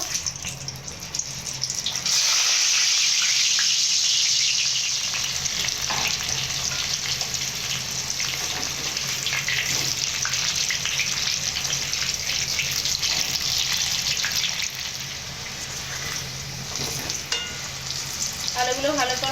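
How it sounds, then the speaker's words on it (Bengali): Boiled jackfruit pieces fry in hot oil with a loud, continuous sizzle that surges sharply when they go in, then holds steady, with occasional stirring sounds and no voices. "এঁচড়গুলো আমি ভেজে নেবো"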